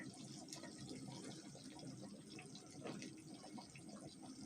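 Catfish being washed in water: quiet, close splashing and sloshing with small drips and trickles, continuous and low in level, with no talk.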